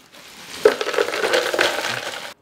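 Ice drops into a blender holding Brazilian lemonade made with juice and sweetened condensed milk, a short clattering crunch of cubes landing and shifting against each other.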